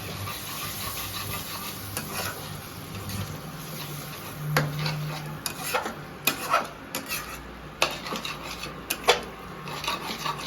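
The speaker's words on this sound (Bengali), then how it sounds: "জলটা দিয়ে ভালো করে এটাকে এবার মিক্স করে নেবো মশলাটা" Spice masala stirred with water in a cooking pot for chicken curry: repeated close scraping and rubbing strokes of a spoon against the pot, with soft wet sizzling underneath and occasional sharper knocks, no talking.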